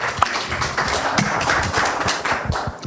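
An audience at a student developers' presentation event applauds the next presenter, with dense, fairly close individual claps and taps running continuously for about three seconds.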